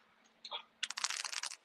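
Crumpled ball of paper rustling in the background, a brief crinkle followed by nearly a second of dense, crackly scrunching, faint and close with no talk.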